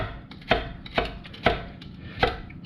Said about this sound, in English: this is a good way to work on your chopping skills by working this knuckle again